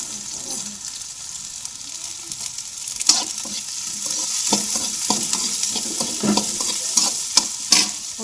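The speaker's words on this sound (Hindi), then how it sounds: "तो भाई अब मैं डालूँगी इसमें लहसुन, और फिर डालनी है मेरे को इसमें प्याज।" Chopped garlic and onion sizzle in hot oil with cumin in a home kitchen pan, a steady frying hiss broken by a series of scraping stirs from a spatula, loud and close.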